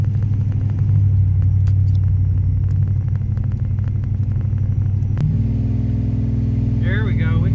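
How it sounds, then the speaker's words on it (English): Boosted Ram engine with a TorqStorm supercharger running, a loud steady rumble with airy blower whine on top, rising in pitch near the end as the engine revs. "You cannot not hear all the air coming out of that blower."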